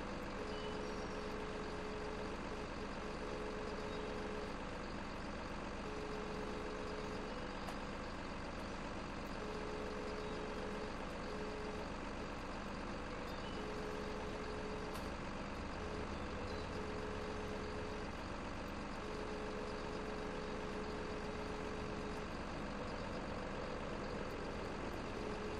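Excavator driving in Landwirtschafts-Simulator 15 (LS15) forestry work: a steady droning diesel engine with a repeating intermittent beep, continuous and moderately loud throughout, no voices.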